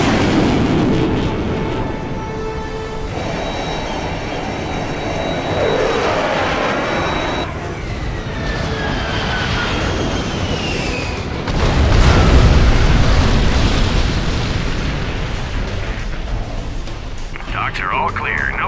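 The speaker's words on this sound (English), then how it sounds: "Launching airstrike." Airstrike in C&C Generals Zero Hour, aircraft roaring past followed by heavy rumbling explosions, with a swelling blast around the middle and radio voice chatter layered over game effects.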